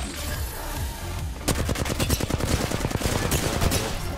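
Rapid bursts of gunfire from the video game Predecessor, a ranked match, start abruptly after a quieter stretch and keep up as a loud, dense, stuttering volley to the end.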